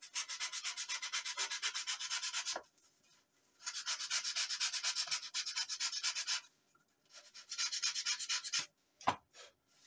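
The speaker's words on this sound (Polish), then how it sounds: "Następnie wszystko musimy przeszlifować." A balsa model aircraft wing is sanded in three long bursts of steady, rhythmic back-and-forth rubbing, close and clear, separated by short pauses with a few faint knocks.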